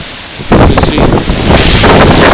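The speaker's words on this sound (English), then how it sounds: "ocean is violent right now" Violent ocean surf and roaring wind on Staten Island during Superstorm Sandy, a loud, continuous rush with heavy wind buffeting the microphone, close and overwhelming, with no talking.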